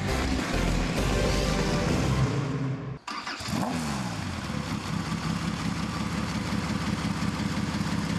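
An autocross racing car engine idles loudly and steadily, cutting out briefly and then catching again into a rough, rumbling idle at a spring race meeting in Humpolec.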